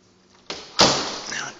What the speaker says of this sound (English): I will put my beer down here and close this door